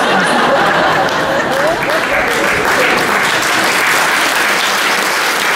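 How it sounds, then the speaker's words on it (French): A concert crowd at a show in Beaumont-Hague breaks into loud, close applause mixed with scattered chuckles and murmuring, staying full and steady throughout. "N'applaudissez pas, bien sûr."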